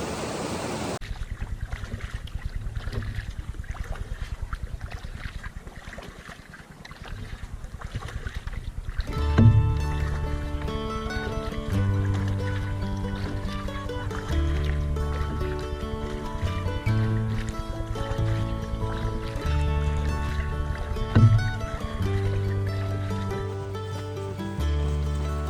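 Canoe paddling on a lake in Algonquin, with soft water swishes and hollow knocks from the hull over a steady outdoor background, near and fairly quiet.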